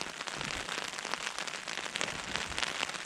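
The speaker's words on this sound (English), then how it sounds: "Light drizzle." Light drizzle falls on a tent during a morning on a coast-to-coast walk in northern England, a dense, steady patter of fine drops with soft crackling taps close overhead.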